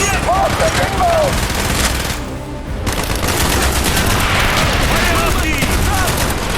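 Dense video-game gunfire from Call of Duty: Black Ops, a loud continuous fusillade of automatic weapons with a brief lull, mixed under shouted voices and battlefield noise.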